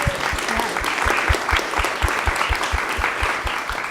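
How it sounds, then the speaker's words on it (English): An audience at a civic innovation panel applauds the panelists and companies with sustained, lively clapping, a steady rhythmic beat running underneath and faint crowd murmur mixed in. "can we give our panelists and our companies a round of applause?"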